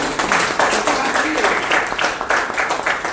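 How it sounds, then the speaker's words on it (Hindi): Seminar audience clapping during an RCM marketing plan presentation: a dense, continuous burst of hands from a crowd, with a voice faintly heard over the noise. "तालियां बजा सकते हैं"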